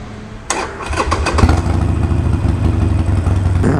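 A motorcycle engine cranks and fires up close by with a sharp start. It then settles into a loud, rough, throbbing idle that continues to the end.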